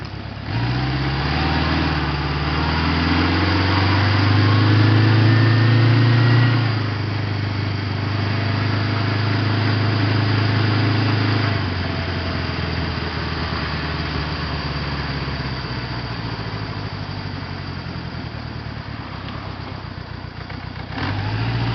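A 1977 Honda CB750A Hondamatic motorcycle engine while riding, a loud close rumble with a rising then falling drone as speed changes, settling to a steadier hum, under wind noise.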